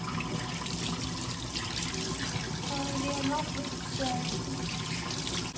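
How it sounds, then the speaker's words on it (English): Warm water running from a tap for a wash-day routine, a steady hiss of flow with some trickling, under soft background voice sounds throughout. "So let's fill the water."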